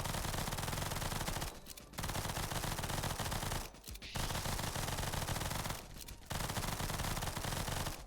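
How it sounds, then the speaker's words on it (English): Automatic gunfire in the video game NIMRODS: GunCraft Survivor, long sustained bursts of rapid loud shots broken by three short pauses. "We are firing automatically"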